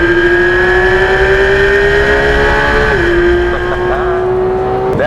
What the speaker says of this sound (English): When you don't have those turbos, you get that raw mechanical engine sound.